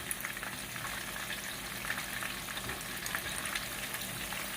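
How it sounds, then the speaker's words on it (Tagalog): Tofu fries in a pan for a pork and black beans dish, giving a steady close crackling sizzle with light stirring and no voices. "Ganyan ang pagluluto ng tofu, kakitsin."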